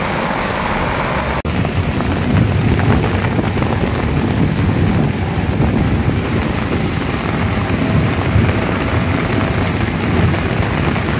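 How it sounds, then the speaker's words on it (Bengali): Heavy rain pours down in a forest during a safari in Rajaji Forest's Chilla Range, a loud unbroken roar of drops on surfaces after a brief sharp onset, close and continuous with no voices. "অন্ধকার হয়ে গেল চারিদিক, আর নামলো বৃষ্টি অঝোর ধারা"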